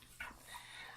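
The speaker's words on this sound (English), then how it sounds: "Sorry, I got a dog here, very anxious." An anxious dog gives a single brief, high whimper up close, very faint against quiet room tone.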